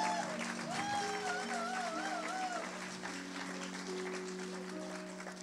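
A church congregation applauds in moderate, fairly distant clapping while a sustained musical tone and a voice carry over it.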